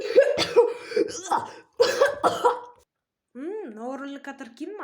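A person coughs several times in two short bursts, harsh and close, followed by a moment of quiet and then a stretch of speech.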